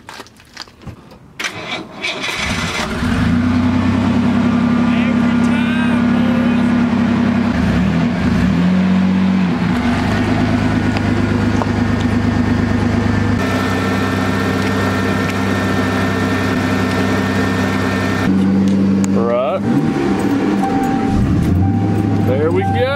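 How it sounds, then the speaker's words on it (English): An old truck engine cranks and catches after a couple of seconds, then settles into a loud, steady idle close by, with a brief rev dip midway and another near the end; people talk over it. "Oldest truck in the driveway, starts up every time."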